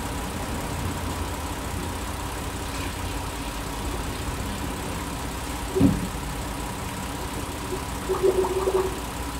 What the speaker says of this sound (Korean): 이 상태에서 워밍을 좀 해서 열이 난 상태에서 또 시동 걸어 볼게요